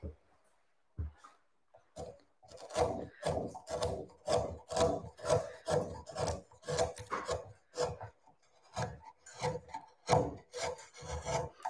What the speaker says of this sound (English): So I'm just smoothing off the top so that I've got an even work base to start carving